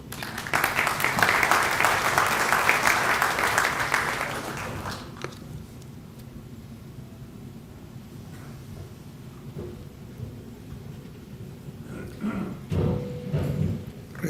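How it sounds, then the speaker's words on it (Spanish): Audience applause at a university distinction ceremony, a dense burst of clapping for about five seconds that then drops away to quiet room tone with faint movement and a few soft sounds. "Lo recibimos con un aplauso."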